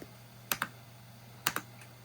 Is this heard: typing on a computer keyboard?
yes